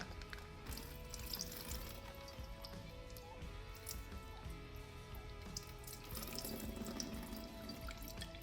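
Warm water runs from a tap into a kitchen sink, a steady splashing flow that continues through the whole stretch with a few brief shifts in tone, fairly quiet and unaccompanied by talk.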